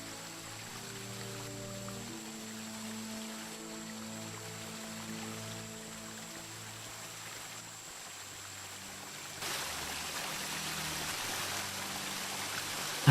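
Flowing, trickling water in the Ankh 2 adventure game, a steady soft stream under a layered musical backdrop, with the wash growing a little brighter and louder near the end.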